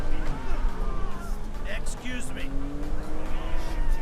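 Cars in the video game GTA 5 rev and drive with a continuous engine roar and brief tire noise under excited, near-constant talking.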